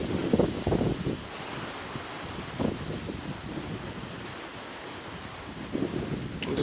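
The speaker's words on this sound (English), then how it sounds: "These are sustained 20 mile per hour winds." Sustained 20 mph wind with gusts around palm trees in Boca Raton, Florida, a steady roaring rush with microphone buffeting and rustling leaves that swells into stronger bursts now and then. No one speaks over it.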